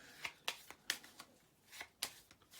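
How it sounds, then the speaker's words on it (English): Playing cards being shuffled during a tabletop miniatures game, sharp riffling bursts repeating about every half second, close and crisp in an otherwise quiet room. "Shuffling the cards."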